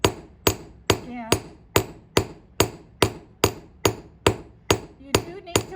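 Hot metal being forged with a hammer, heard as steady, evenly spaced ringing blows, about two per second, loud and close with no voices.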